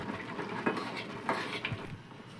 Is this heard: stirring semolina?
yes